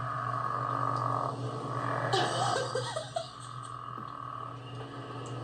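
Bullfrog calling at a frog outreach event in Pennsylvania, a low steady drone with a faint higher croak running through it, and a brief scuffling rustle around the middle of the clip.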